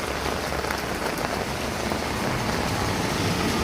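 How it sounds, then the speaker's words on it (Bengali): Steady rain falls at night on a street with little traffic, a dense, close, continuous patter that stays at an even level throughout with no voices. "রাত্রে দুটো বৃষ্টি হতেছে"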